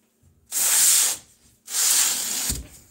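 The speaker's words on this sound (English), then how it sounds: "I've got to give it a good old spray down in there now." A handheld spray bottle mists water into a Savannah monitor's reptile enclosure in two long, steady hissing bursts, each lasting about a second, separated by a short pause.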